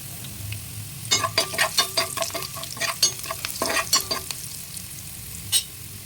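Sliced onions frying in oil with salt in a pan for a black-eyed pea curry: a steady soft sizzle broken by a run of rhythmic scraping stirs, then quieter frying with one last stir.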